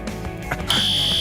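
A building fire alarm goes off: after a few muffled knocks and rustles, a loud, piercing high electronic tone sounds and holds steadily, close by.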